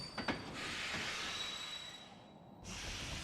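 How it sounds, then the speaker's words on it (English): A ghost train in Kingdom Hearts II rolls along its rails with a low steady rumble and hiss, a couple of sharp clacks near the start, before the sound cuts off abruptly near the end. "We do be on the ghost train."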